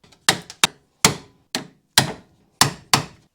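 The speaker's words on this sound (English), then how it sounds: "We just need to hit them flat with a screwdriver to allow us to remove the tie rod." A screwdriver is hammered against the bent lock collar tabs on a Mazda MX-5 Miata tie rod, flattening them in seven sharp, ringing metallic strikes at an uneven rhythm, loud and close with no voices.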